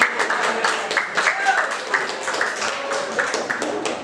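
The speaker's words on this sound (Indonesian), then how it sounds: "Ya, tepuk tangan untuk jawabannya." A group of teachers at an Indonesian-language training session gives a short burst of clapping for a group's answer, uneven hand claps close by mixed with talking voices.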